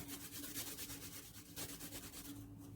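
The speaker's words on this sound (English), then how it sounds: "I'm grating my garlic in there." Fresh garlic is rubbed across a grater in quick, even strokes, a faint rhythmic scraping that repeats steadily.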